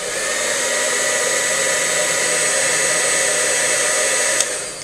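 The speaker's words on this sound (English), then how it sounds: "the heat gun has actually heated up" A heat gun blows hot air over a ribbon with a steady, loud, unbroken rushing whoosh, like a hair dryer, holding constant throughout with a faint click near the end.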